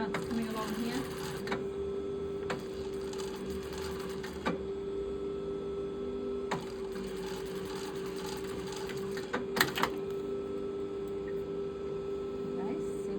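Sewing machine stitching front and back corset pieces together with a 7 mm seam allowance, a steady close whirring hum that runs throughout with a few brief clicks and knocks as the fabric is guided.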